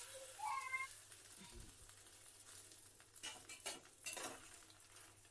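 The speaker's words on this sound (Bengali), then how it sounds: "ডিমটা ভাজা হয়ে গেছে" An egg fries in a pan in a home kitchen, with a soft sizzle under scattered clinks of utensils and cookware, plus a few louder scraping bursts toward the end.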